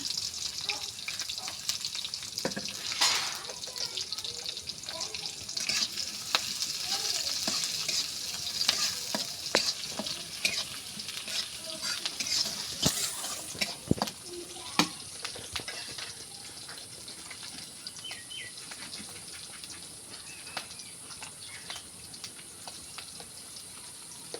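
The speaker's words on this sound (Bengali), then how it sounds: "পেঁয়াজ মরিচটা ভাজে নিব।" Chopped garlic, onion and green chili fry in hot oil, giving a continuous close sizzle with scraping stir strokes and a few sharp clinks, and no talk.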